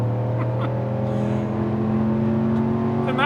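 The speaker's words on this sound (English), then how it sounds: "that's one of the massive reasons right there that they brought the Hemi back too, is because of the way it sounds" 2026 RAM 1500 with a HEMI V8 and sport exhaust under throttle, a steady deep droning engine tone that rises slightly as it pulls, heard from inside the cab with no talk.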